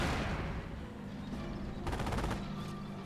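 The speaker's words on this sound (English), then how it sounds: "We are coming under fire" Gunfire crackles through a battle in the World War II strategy game Company of Heroes, with a steady rumble of combat beneath and a dense burst of rapid shots partway through, then a shorter burst.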